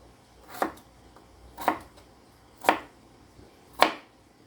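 A knife chops seafood into small bite-sized pieces on a board, four separate sharp cuts spaced about a second apart, close and clear over a quiet background.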